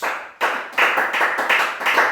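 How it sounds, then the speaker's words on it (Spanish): A small church congregation claps in a rhythmic, even beat, sharp distinct claps spaced roughly every third of a second, fairly close and loud with no voices over them. "Démosle un aplauso al Señor Jesucristo."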